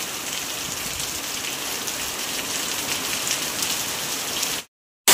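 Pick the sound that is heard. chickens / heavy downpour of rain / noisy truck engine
heavy downpour of rain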